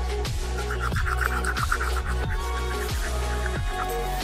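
Someone brushes their teeth with a toothbrush, a close, rhythmic scrubbing in regular strokes about every two-thirds of a second, steady and fairly loud over a constant low hum.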